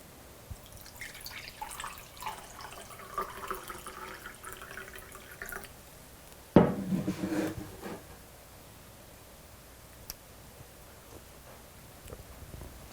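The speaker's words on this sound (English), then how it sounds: "So this is our Kool-Aid. I'm just gonna pour it in the glass so you guys can see how it came out." Orange Kool-Aid drink poured from a ration pouch into a glass, a soft liquid trickle building midway into a brief louder splashing pour, then fading to quiet with a few faint drips.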